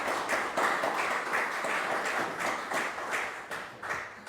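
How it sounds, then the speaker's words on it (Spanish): Applause from the members at a council session, a dense and even round of clapping lasting a few seconds, with no voices over it. "Muy bien, un aplauso."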